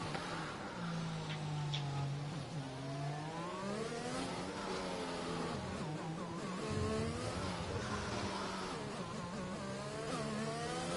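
A Mercedes race car on a hot lap around Monaco in a racing game, engine note climbing and dropping through gear changes as it whines past, fairly faint and continuous with no voices.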